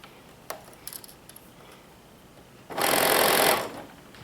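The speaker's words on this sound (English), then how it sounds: "That's why you put the zigzag." A sewing machine runs a zigzag stitch on stretchy tee fabric, one steady loud burst of under a second after a few faint clicks and handling taps in a quiet room.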